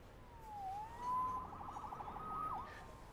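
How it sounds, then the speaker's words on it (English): A police siren wails faintly in the distance, its pitch sweeping down and up in long glides, with no voices over it. "Saved by the siren."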